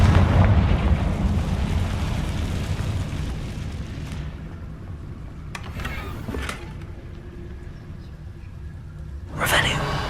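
A Confringo fire spell goes off in Hogwarts Legacy, a rumbling blast with broad crackling bursts around the middle and a sharp flare near the end, layered over a dense game soundscape.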